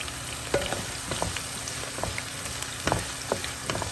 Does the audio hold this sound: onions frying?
yes